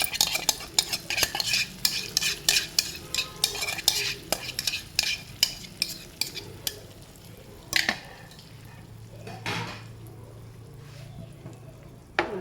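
A spoon stirs curd through bhindi masala in a hot pan: repeated close scrapes and clinks come in bursts over a soft frying hiss, then thin out toward the end.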